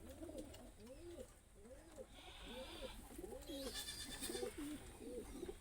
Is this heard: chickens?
no